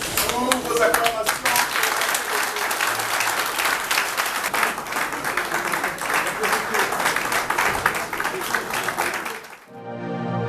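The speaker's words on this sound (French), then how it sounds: "Vos acclamations." A crowd claps and cheers at a women voters' thank-you gathering in Loandjili, dense loud applause with shouts running nearly the whole time before cutting off into a short quiet tail.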